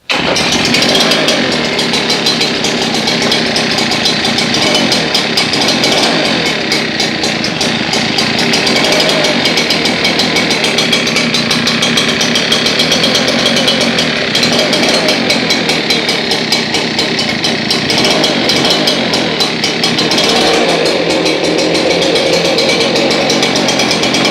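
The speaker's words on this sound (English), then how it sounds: "So I'll grab my left hand and give it just a tiny bit of throttle." An Echo PB-8010T backpack leaf blower engine runs loud and steady, rising slightly as it is given a touch of throttle, with a continuous raspy two-stroke roar and no speech.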